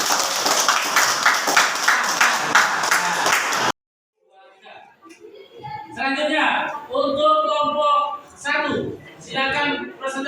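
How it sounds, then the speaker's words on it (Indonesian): Classroom applause for a student group: a burst of clapping from many hands for several seconds, cutting off abruptly, followed by a teacher speaking. "Tepuk tangan untuk kelompok 2"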